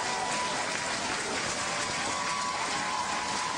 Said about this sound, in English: Crowd ready for this match.